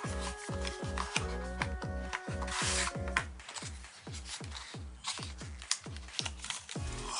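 Packaging for a CFD PG3NF2 2TB M.2 SSD being opened: close, continuous crinkling and rubbing of plastic and cardboard with a few sharp rasps, steady throughout and with no talking.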